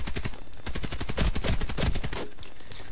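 Rapid, loud automatic fire from the Karkom rifle in the online shooter Warface, a continuous close burst of evenly spaced shots that tapers off near the end.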